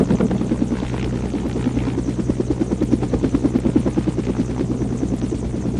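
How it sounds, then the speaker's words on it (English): A helicopter flying nearby, its loud, steady engine drone layered with fast, rhythmic rotor chopping that pulses evenly throughout. "I think my helicopter's going too fast."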